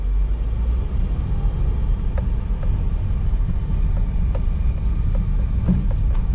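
A 2015 Perodua Myvi 1.5 SE facelift automatic pulls away on a test drive, its engine a steady low rumble with road and cabin noise throughout and a few faint clicks and knocks, with no talking.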